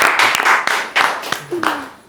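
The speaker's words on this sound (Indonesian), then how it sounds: "tepuk tangan buat mamanya" An audience at a talk show taping claps for Shannon's mother, a short spell of scattered, uneven clapping with a few distinct sharp claps, while people talk over it.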